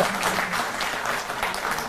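Loud, sustained applause from an audience at a stage ceremony honouring guests, a dense steady clatter of clapping hands that fills the whole stretch without a break.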